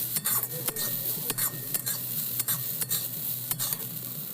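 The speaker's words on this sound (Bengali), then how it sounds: "কচুটা আস্তে আস্তে ভাজা হচ্ছে" Sola kachu (taro) fries in a pan with a soft, steady sizzle while a spoon stirs it, scraping and knocking against the metal again and again at close range.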